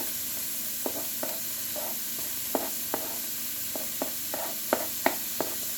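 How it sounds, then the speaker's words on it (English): Onion sautéing in a pan, a soft continuous sizzle with light, irregular clicks and taps of a stirring utensil, no voices. "I'm gonna saute this for a little bit in here"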